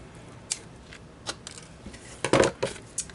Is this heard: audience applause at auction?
no